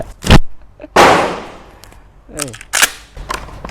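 A Huglu ATROX pump-action shotgun fires from the hip: three sharp, loud blasts spaced irregularly, the second ringing out longest. A person speaks briefly between the shots.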